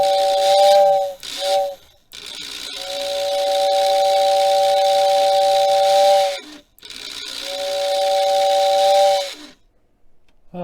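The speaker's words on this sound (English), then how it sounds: "Let's hit the whistle button here." A Lionel 6466W model train tender sounds its steam whistle in three loud, close, steady blasts: a short one broken into two parts, then a long toot, then a medium one. Each blast is separated by a brief silence.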